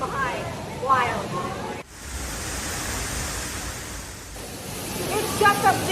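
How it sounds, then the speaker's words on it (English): Heavy roar of Niagara Falls water from behind the falls, a dense steady broadband rush that fills the whole clip, with voices talking over it at the start and end. "The water is really going powerful today. It's just wild to just hear it."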